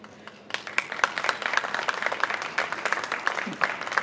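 An audience claps at a talk on education at a festival, with distinct individual claps forming a moderate, uneven patter that starts softly and continues steadily at mid-distance.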